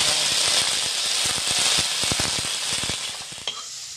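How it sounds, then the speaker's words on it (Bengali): Green peas with salt tossed in a hot wok, a bright sizzle under a run of sharp rattling clicks as the peas are stirred and scraped, close and fairly loud, easing toward the end. "তো মটরশুঁটিগুলো দিয়ে দিলাম কড়াইয়ে"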